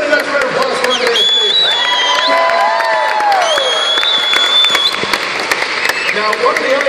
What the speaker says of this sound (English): Everybody, next round of applause for Andreas.